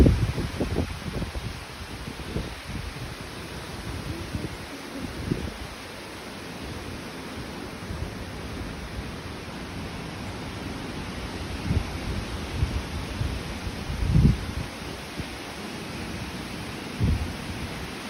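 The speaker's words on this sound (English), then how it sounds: "I'll show you guys how windy it is." Strong gusty wind on a blustery day at Stamford, a broad rushing roar with leaves rustling and buffeting bursts against the microphone, steady and fairly close, no talking.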